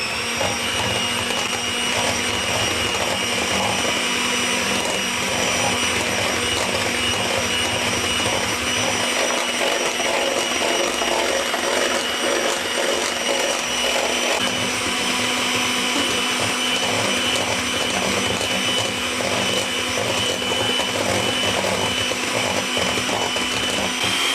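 Electric mixer whipping egg whites with cream of tartar in a metal bowl, a loud, continuous high whirring with metallic rattling, steady throughout, with no talking.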